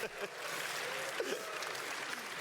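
A crowd sound effect in the game Path of Exile claps steadily in a dense, even patter of applause, fairly faint and continuous for a couple of seconds.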